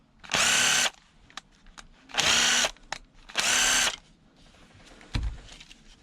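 A power drill backs a screw out of an old plug unit containing Bakelite-like plastic during a teardown, running in three loud, roughly half-second whirring bursts with short gaps, then a brief clunk at the end.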